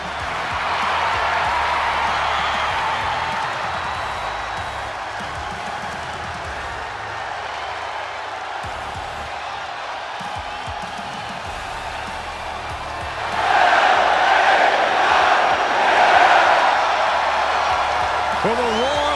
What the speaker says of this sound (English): For the roar of the crowd tells you all you need to know.